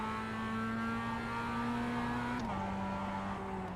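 A production race car in the iRacing sim runs at a steady engine tone under throttle, then drops in pitch near the end, continuous and moderately quiet.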